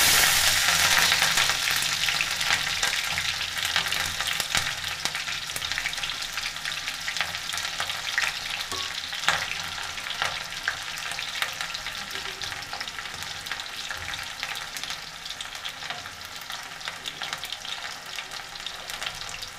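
Onion and garlic frying in cooked masala for samefali, a steady close sizzle with occasional stirring scrapes, loudest at the start and easing slightly as it continues alone with no talk.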